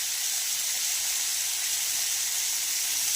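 Elephant apple pieces with salt, turmeric and spices fry in a pan for pickle, giving a dense, steady hiss and sizzle throughout with no talking.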